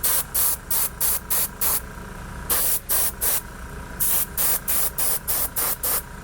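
An airbrush fed by a compressor at 24 psi sprays in rapid, even bursts of hiss, close and loud, in rhythmic groups with brief gaps.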